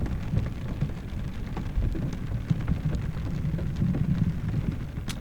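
Steady rain falls outside at a camp setting, a constant soft patter of drops with occasional louder splashes and a low rumbling undertone, and no voices.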